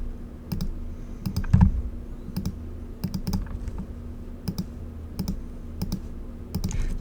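Computer mouse clicks while tracing a polygonal lasso selection around an apple image, sharp single and double clicks spaced irregularly over a low steady hum, close and fairly quiet.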